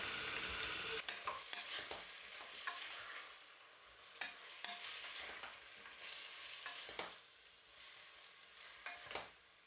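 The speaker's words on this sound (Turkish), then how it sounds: "Orta hararetli ateşte" Steady sizzling of meat frying over medium heat in a pot for et kavurma, with repeated scraping and stirring clatters over the continuous crackle, fairly close.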